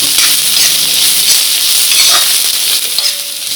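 Finely chopped carrots and beans sauté in a pan on the stove, producing a loud, bright, constant sizzle close to the mic, with faint stirring movements and no speech.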